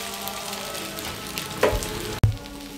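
Seekh kebabs cooking on a hot tawa, a moderate sizzle with a short scraping swish as they are turned, then a sharp clank of the utensil followed by renewed frying.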